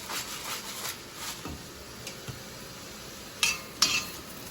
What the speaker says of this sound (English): I'm gonna make sure I move them around in that little garlic butter that I have in the bottom of the pan